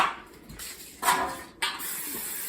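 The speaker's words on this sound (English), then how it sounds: "I spray my pan" Cooking spray hisses onto a baking pan for cinnamon rolls in three short, close bursts, the second and third sharper and longer, with no talk.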